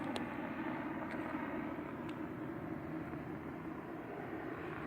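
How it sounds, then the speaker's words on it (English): A police helicopter passes overhead with a steady low engine drone, constant and moderately loud, with a few faint clicks and no talking. "Another police helicopter."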